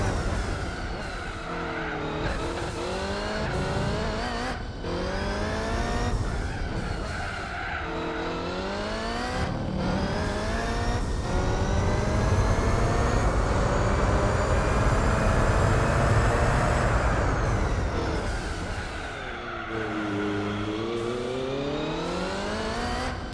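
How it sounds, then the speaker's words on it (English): Race car engine in Gran Turismo 4 on a tight Hong Kong street circuit, revving hard through repeated gear changes and sustained high-rpm runs, the sound echoing off close walls, loud and continuous. "I'm loving the sound of the engine bouncing off the walls as well."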